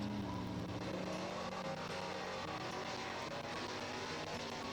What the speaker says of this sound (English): Ready to take on the dragster here at Dragway Park.